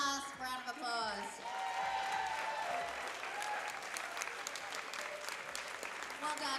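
A crowd applauds Masters women lifters at a national powerlifting championship, a steady, dense clapping that holds for several seconds with a voice heard over it at the start.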